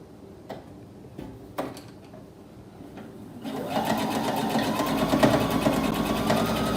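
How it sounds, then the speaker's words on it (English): A sewing machine stitching a straight seam along the folded edge of a fabric face covering. A few handling clicks come first, then a steady, rapid mechanical whirr with fast ticking runs to the end, close by. "Sew with a 3/8 of an inch seam allowance on the outside edge of the flaps"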